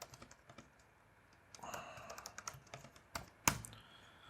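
Rapid typing on a computer keyboard during web coding work, soft irregular key clicks building into a denser burst with one sharper loud keystroke near the end, close and without talk.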